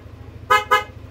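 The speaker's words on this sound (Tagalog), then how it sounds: "Tapos ang busina natin bossing" Two short, loud motorcycle horn honks from a Yamaha NMAX in quick succession over a low idling engine hum.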